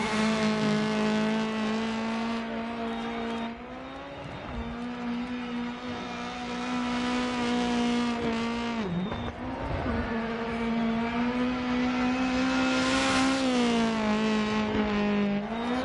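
An R5 rally car in Dirt Rally 2.0 with anti-lag, its engine droning at high revs with pitch dips through gear changes and braking, sharp pops and crackles, sustained and fairly loud throughout.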